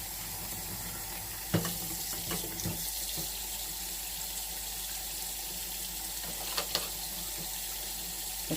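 Hot water runs steadily from a kitchen tap into a sink while jars are prepared for canning dry beans, a constant splashing hiss broken by a few sharp clinks and knocks.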